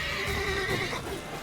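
A horse in The Witcher 3: Wild Hunt lets out a single long, clear whinny, heard alone and fairly close, with a steady ambient background.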